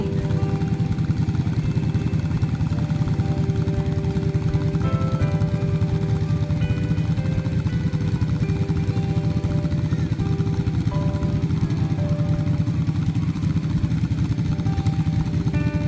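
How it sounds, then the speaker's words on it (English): Continuous loud drone of antique tractor engines at a tractor pull, chugging and rumbling steadily, with a few higher mechanical tones layered in, no letup. "the tractor pull was underway, which was surrounded by many small antique tractors on display"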